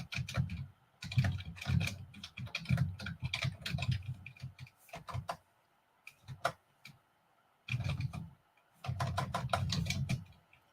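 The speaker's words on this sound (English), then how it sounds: "But I figure I should probably type it up here." Typing on a computer keyboard in bursts of rapid clicks separated by short pauses, close and clear with no talking.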